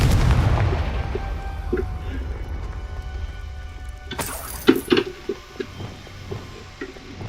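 The Confringo fire spell exploding in the video game Hogwarts Legacy: a heavy booming blast followed by several crackling bursts and debris impacts, heard over a low rumbling game ambience.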